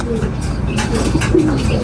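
Racing pigeon cooing close by in a loft on race day, low soft coos repeating over a busy background while a person talks nearby.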